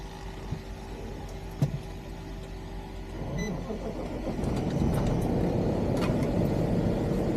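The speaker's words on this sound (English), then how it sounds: "Got to start the truck." A lumber truck's engine starting: a few clicks and a faint hum, then the engine cranks and catches around the midpoint and settles into a loud, steady idle rumble.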